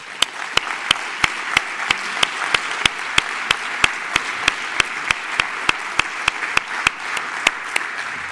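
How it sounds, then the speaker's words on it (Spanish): An audience at a cybersecurity conference in the Basque Country claps for the panel speakers, dense applause broken by sharp, evenly spaced beats, steady and fairly loud from start to finish. "listos para recibir un fuerte aplauso"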